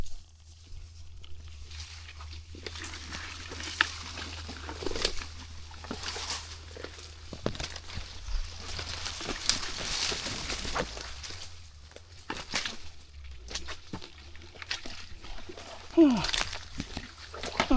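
Someone wades through deep water among mangroves while hunting crabs, with irregular splashing and sloshing steps that rise and fall and a few louder splashes near the end, under scattered outdoor noise.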